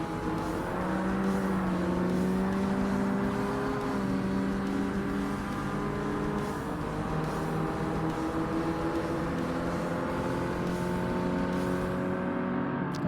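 Racing car engines droning steadily in Forza Motorsport on Xbox during an amateur European open race, a continuous loud revving hum from the player's car with other cars nearby, no talk.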